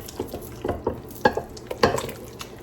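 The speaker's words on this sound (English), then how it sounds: "Mix these together." Dressing ingredients for a pimento cheese macaroni salad stirred together in a bowl, with close, wet, squelching strokes and light clinks of the spoon in an irregular rhythm and no talking.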